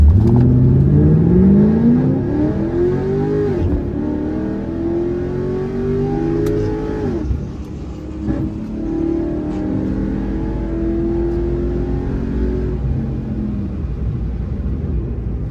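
A Toyota MK5 Supra races at Orlando Speed World, its engine loud and close, climbing in pitch through several gear pulls with brief drops between shifts over a continuous heavy rumble.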